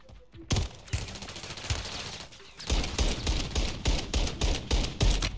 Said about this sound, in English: This gun just doesn't hit